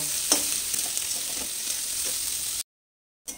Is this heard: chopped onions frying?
yes